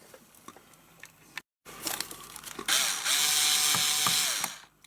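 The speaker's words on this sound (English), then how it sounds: "That's the fourth screw out." A screwdriver ratchets and clicks while screws are backed out of an Intel NUC mini PC, first in sparse close clicks, then a longer continuous whirring ratchet with scraping.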